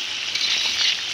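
Onions dropped into bubbling sambal for prawns with petai and potatoes give a brief, bright hiss of frying, steady and close, with no speech.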